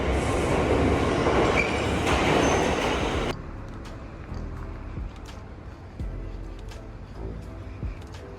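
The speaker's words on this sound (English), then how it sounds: "So we're gonna jump on the subway real quick." A New York City subway train roars loudly with rumbling wheels and rattling cars, then drops to a quieter station or car ambience with scattered clicks and faint voices.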